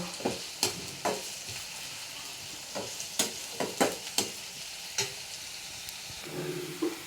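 Mutton with onions and spices frying in a wok, a soft sizzle punctuated by repeated sharp scrapes and knocks of a spatula stirring, near and irregular, with no talking.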